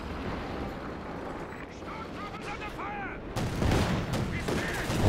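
A strafing run tears through a Company of Heroes 2 battle on the Whiteball Express map, gunfire and explosive bursts rolling under a talking voice, growing louder and heavier toward the end.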